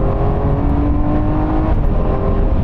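A Lamborghini Aventador engine roars in a loud, sustained drone with a steady low rumble, holding its pitch without talk over it.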